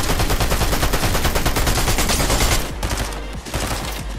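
Rapid automatic gunfire from a Fortnite match, loud and dense with repeated shots for nearly three seconds before thinning into a few scattered bursts; no talking over it.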